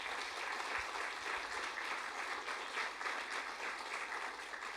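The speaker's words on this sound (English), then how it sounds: "Big round of applause for Tom Stroud" An audience at a TEDx event applauds steadily for a speaker, a sustained even wash of clapping that is fairly faint and distant, with no talk over it.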